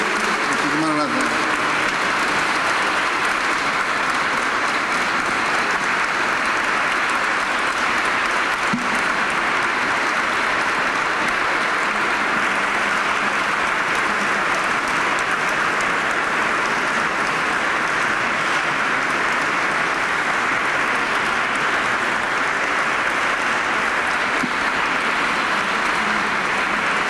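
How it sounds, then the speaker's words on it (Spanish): Sustained, loud applause from a concert audience in a church, a dense wash of clapping that continues steadily throughout without letting up. "hacemos un aplauso fuerte para Jorge"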